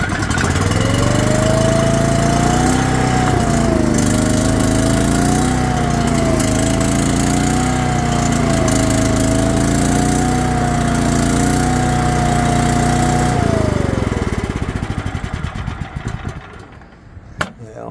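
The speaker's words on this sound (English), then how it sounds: "It won't stay idling unless you leave the choke out slightly." A 2017 Ford service truck's welder engine idles steadily with the choke partly out, a loud continuous drone with a wavering tone, before shutting down and fading near the end.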